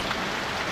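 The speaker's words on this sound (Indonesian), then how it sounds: "Hujan loh." Rain falls steadily in the mobile game Sakura School Simulator, an even hiss of droplets with no talk.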